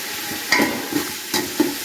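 Mint and coriander leaves sauté in a pan, giving a steady sizzle broken by a few scraping stirs of a spoon, close and with no voices.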